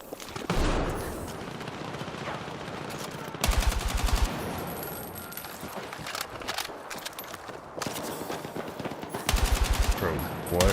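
Bursts of automatic gunfire in an online shooter match at the Grand Bazaar, loud and near, in several clusters with footsteps and game effects between them. A voice talks faintly underneath.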